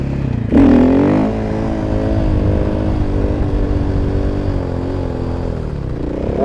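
Suzuki DR-Z motorcycle engine droning steadily while being ridden, a sharp rev surge near the start settling into a continuous loud harmonic engine note throughout.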